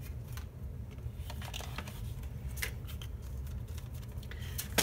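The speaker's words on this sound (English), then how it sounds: "So we're just going to cut a chunk." Scissors cutting paper for scrapbooking produce a series of soft, quick snips and crisp rustles, close by and fairly faint, over a low steady background hum with no talking.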